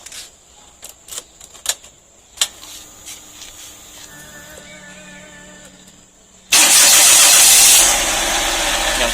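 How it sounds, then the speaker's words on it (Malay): Perodua Viva car with its engine started after a few close interior clicks and handling sounds, then a sudden loud starter crank catching into a steady rough idle that settles slightly. "Start engine dulu."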